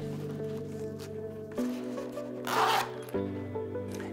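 A toiletry bag's zippered compartment is worked by hand: a few short zipper pulls and fabric rustles in close succession, one brief brighter rasp standing out mid-clip, near and fairly quiet, with no talking.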